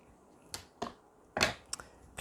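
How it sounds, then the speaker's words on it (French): Scissors cut a piece of ribbon in a few short, crisp snips spaced irregularly, close and quiet against a hushed background. "Viens maintenant couper un morceau de ruban."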